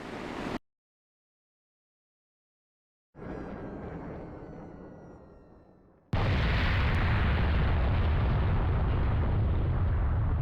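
Missiles launching in Killer7, a sharp blast that cuts to silence, then a fading whooshing roar, and finally a loud, sustained rumbling roar.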